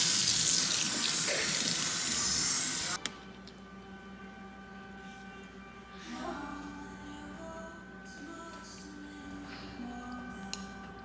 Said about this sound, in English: This is how I have to wash, shampoo Marie's hair